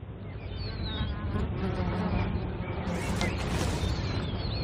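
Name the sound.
flies buzzing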